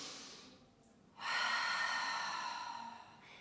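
A deep, long inhale taken during a Pilates exercise with a ball and weights, a steady breathy rush through the nose or mouth lasting about two seconds after a short quiet pause, close and clear with no talking.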